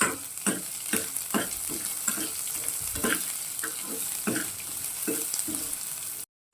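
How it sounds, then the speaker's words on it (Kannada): Onions frying in a pan, sizzling steadily while a utensil stirs and scrapes them in regular strokes, close by, with no talking. "ಫಸ್ಟು ಈರುಳ್ಳಿ ಸ್ವಲ್ಪ ಫ್ರೈ ಮಾಡ್ಕೊತೀನಿ."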